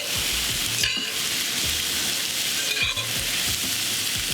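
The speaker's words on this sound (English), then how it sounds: "cooking some breakfast" Breakfast frying in a pan at a hunting camp, a steady close sizzle and crackle of hot oil with a couple of brief stirring scrapes.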